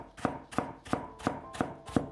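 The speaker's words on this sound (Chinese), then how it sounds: "尽量切薄一些，然后再改刀切成细丝，尽量切细一些，切均匀一些。" A knife cutting potato into fine shreds on a board: six crisp, evenly spaced chops about a third of a second apart, close and clear with nothing else around them.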